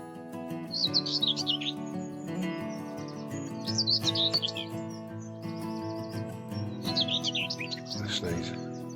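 A whitethroat sings in short scratchy bursts, three bouts spaced a few seconds apart, over a steady background hum and other faint birdsong at a local nature patch.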